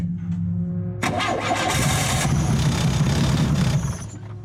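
A race car engine for a Lemons endurance race cranks and catches, then runs roughly at close range for a few seconds before dropping back toward idle, with no voices over it.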